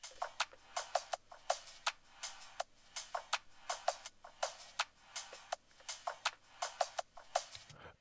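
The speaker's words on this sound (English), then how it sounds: "This percussion stem sounds like this." A percussion stem from a drum mix plays a rapid, steady pattern of crisp, ticking clicks and shaker-like hits over a faint low hum, quiet and alone without talk.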